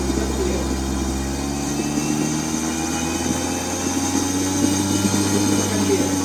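A RAWSUN RAD20000 electric vehicle air conditioning compressor runs steadily at its third speed setting, a continuous motor hum with layered tonal whine that holds level and close throughout, alone without talk.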